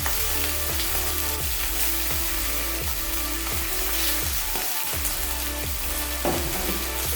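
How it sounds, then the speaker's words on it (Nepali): Chicken gizzard and liver fry in a hot pan with a steady, dense sizzle, broken by regular scraping stirs of a spoon against the pan roughly every half second, loud and close throughout. "अब हामी यो कलेजो पाङ्ग्रा हालेर यसलाई मजाले रातो हुँदासम्म फ्राई गर्छौँ है।"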